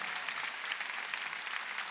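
A Korean church congregation claps at a Sunday worship service, producing a continuous, bright, even clatter of many hands throughout the short stretch.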